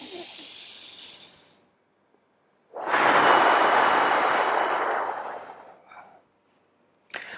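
Audible ocean-style breathing exercise: a long, loud, rushing inhale-like breath sound lasting about three seconds, preceded by a softer airy breath and followed by a brief faint puff, heard alone close to the microphone.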